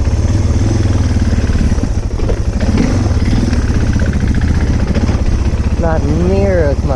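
Suzuki DR650 dual-sport motorcycle with 14-44 sprockets riding a small trail, a loud, steady engine thrum and rumble close to the rider, with a voice briefly audible near the end.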